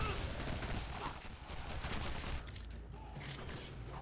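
Gunfire in the video game Shadow Warrior, a dense ongoing rattle of game shots and impacts mixed with effects, fairly faint and steady over the whole stretch.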